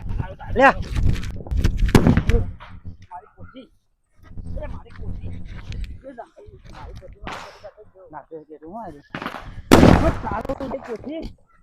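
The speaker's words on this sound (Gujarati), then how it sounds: "લે ટેટો ફોડું લે" Diwali firecrackers go off in sharp, loud bursts between stretches of lively talking, with one bang early and another near the end.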